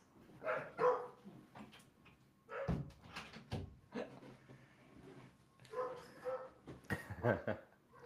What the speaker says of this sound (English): Oh, dogs are going